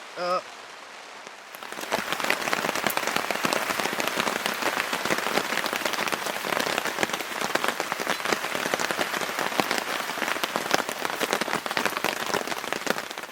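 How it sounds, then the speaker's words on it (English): After a quiet start at Three Mile Lake, steady heavy rain suddenly begins and pours continuously, pattering densely on surfaces close by. "The rain's finally decided to come."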